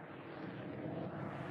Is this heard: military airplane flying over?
yes